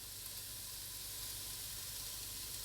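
A beef and chorizo mixture for one-pot chili sizzles in a pan with a constant, even hiss, moderately quiet and unbroken, with no one speaking.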